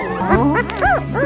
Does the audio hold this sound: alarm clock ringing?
no